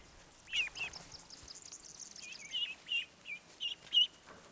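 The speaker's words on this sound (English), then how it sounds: "These are our 3 little ducks." Three small ducklings on a rural homestead give high, thin peeping calls, a series of short, fairly faint chirps in a quiet setting, spaced unevenly and growing slightly louder toward the end.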